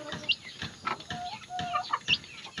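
Pet chickens cluck and squawk in short, irregular bursts while feeding nearby, with soft pecking and shuffling between calls and no talking.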